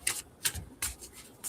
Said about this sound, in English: So I'm just going to shuffle and split.